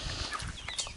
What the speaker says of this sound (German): Und davon haben wir auch einen Hahn.